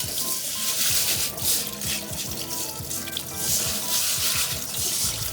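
Lentils being rinsed in water in a colander under a running tap, a steady close gush and splash of water with faint clinks, continuous throughout.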